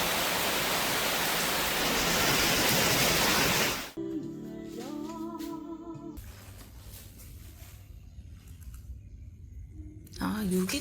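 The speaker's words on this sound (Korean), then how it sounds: "이렇게 비가 오는 시간은 일부러 발코니에 앉아서 비멍을 실컷" Rain falls at a resort balcony in Hoi An in August as a steady, loud broadband hiss for about four seconds, then gives way to other sounds with people talking.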